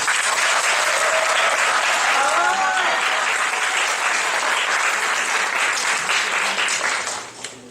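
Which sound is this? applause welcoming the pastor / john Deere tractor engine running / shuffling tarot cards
applause welcoming the pastor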